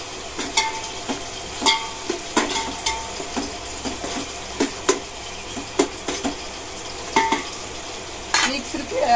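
Onions frying in a pan while a spoon scrapes and clatters against it, with steady sizzling under repeated sharp metallic knocks at close range.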